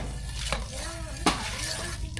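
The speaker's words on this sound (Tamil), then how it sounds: "பாயசத்துக்கு எல்லாம் ரெடி ஆகிட்டு கிண்டி விட்டுலாம் பார்க்கலாம்" Payasam with vermicelli and sugar stirred in a pot, soft bubbling and swishing with two sharp clanks of a ladle against the metal side.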